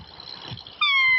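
A cat's meow imitated on a handheld bird whistle by exhaling and moving the lower jaw: a quiet breathy lead-in, then a single loud, sustained whistled meow close up.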